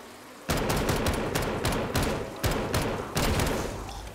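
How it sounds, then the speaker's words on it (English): The Death Machine minigun in Black Ops 3 Zombies on a remastered Bus Depot map fires a loud, sustained rapid stream of shots. Several short pauses break it into repeated long bursts. "The minigun! Oh, it's known as the death machine!"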